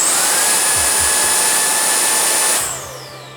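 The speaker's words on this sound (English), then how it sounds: "So doing a little airspeed test. This is at number 1. Number 1 with no nozzle." A Milwaukee M18 brushless precision blower runs at its lowest setting with no nozzle, a loud close whine and rushing airflow that holds steady, then spins down at the end.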